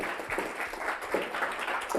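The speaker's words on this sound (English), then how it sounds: "Can we give her a round of applause here?" Audience applause at a talk on making money from Instagram, a soft, even patter of many hands clapping, fairly distant and continuous across the whole stretch.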